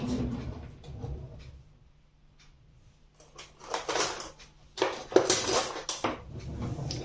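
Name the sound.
fork clinking while mixing in a dish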